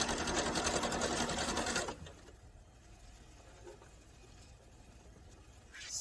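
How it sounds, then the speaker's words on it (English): Sewing machine stitching a stretch fabric headband, a loud rapid whirring run that stops after about two seconds, followed by quiet handling noise and a brief restart at the end. "Let's go ahead and start sewing."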